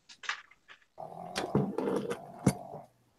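A dog sniffs and gives a low rumbling growl, starting with a few short snorting sniffs, then a sustained throaty growl with sharper bursts, close and fairly loud.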